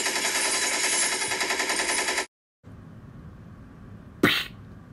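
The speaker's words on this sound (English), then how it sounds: "I'm gonna shoot this person." Rapid gunfire in the LEGO Batman video game: a loud, dense stream of rattling shots for about two seconds, then a brief silence, quieter game noise, and a single sharp burst near the end.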